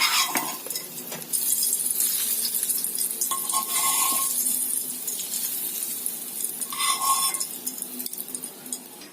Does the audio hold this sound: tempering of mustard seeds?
yes